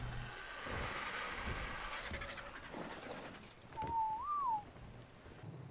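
A tamed bird in the video game ARK Survival Ascended gives one clear whistling call that rises and falls, heard over a steady rain-like hiss of ambient game noise.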